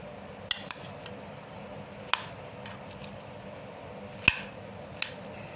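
A utensil mixes an egg salad with spices in a bowl, giving soft squishing under faint background hum, broken by a few sharp clinks of metal against the dish.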